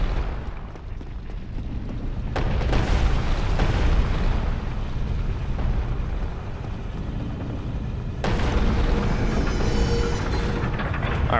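A rolling boulder in Dark Souls rumbles and crashes loudly, a continuous heavy roar with a sharp crash partway through, then renewed booming impacts toward the end.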